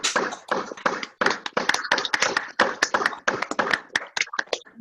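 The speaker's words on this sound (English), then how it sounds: "We will have a big round of applause for the affirmative team" Scattered participants in an online meeting clap for a debate team, sharp separate hand claps from several unsynchronized sources, close and crisp, with brief gaps between bursts.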